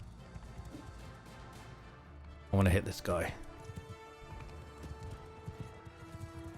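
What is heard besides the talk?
horse galloping hoofbeats in the video game Bannerlord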